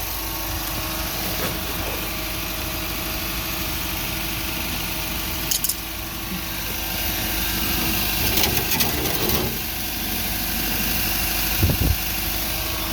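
A 2010-2014 Honda Insight engine idles steadily just after starting, following a transmission fluid drain and refill; a constant low hum runs throughout the clip with a few brief clicks and knocks on top.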